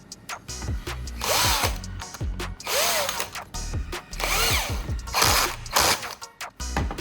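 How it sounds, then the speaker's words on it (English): A power grinder works one end of a metal bolt to slim it down, producing a loud, continuous whining roar that rises and dips as the tool bites into the metal, heard alone throughout. "I'll carefully grind down one end of the bolt to slim it down."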